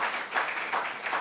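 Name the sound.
audience applause for quiz teams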